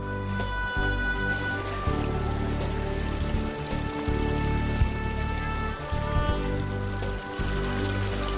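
Water from a town square fountain in Teruel splashes and patters steadily, a continuous close wash of dripping and running water with a faint tonal hum behind it.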